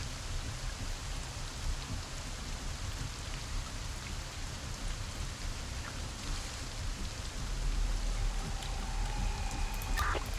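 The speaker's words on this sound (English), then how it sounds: "It's starting to rain." Steady rain hisses down in the zombie survival game Infection Free Zone, a constant, even wash of falling drops with a slight swell in loudness near the end.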